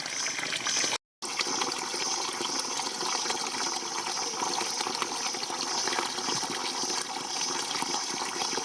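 Spring water flowing steadily through an oak, moru and kharsu forest near Anjoot village in Uttarkashi, a continuous close rushing trickle with a brief dropout near the start.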